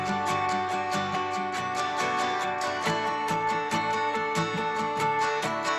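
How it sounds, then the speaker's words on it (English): Layered guitar samples and sampled strummed guitars in a pop song chorus play together as a steady, dense rhythmic part with regular strum accents, full and continuous throughout. "So all together, the guitars sound like this."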